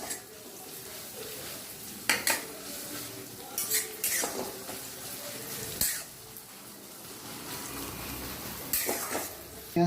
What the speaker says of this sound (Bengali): পেঁয়াজ কুচিটা দিয়ে একটু নেড়ে নেব